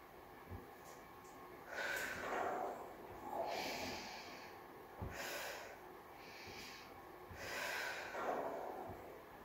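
Short breaths in and out during a beginner reformer Pilates exercise, soft and close, repeating in a steady rhythm of several gentle inhales and exhales with faint background noise.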